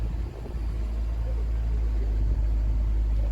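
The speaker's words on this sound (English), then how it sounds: "now the car is running." A 2007 Chrysler 300, which had a crank-no-start fault, idles with its engine running after its relay was jammed: a steady, close, low rumble that holds even throughout, with no other sounds.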